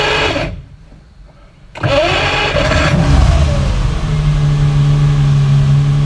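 Ferrari 250 GTE V12 cranked over and fired up from a quiet start, catching into a loud, close engine roar that rises and settles to a steady, even idle.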